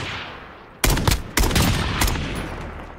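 Gunshots ring out in Call of Duty Modern Warfare, a couple of sharp loud bursts of rapid fire after a quiet start, close and punchy.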